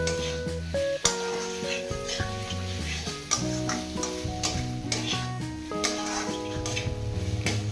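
Chopped tomato and grated coconut are stirred into a spice paste frying in a pan for shrimp and biulir dal, a low continuous sizzle and spatula scraping beneath loud background music.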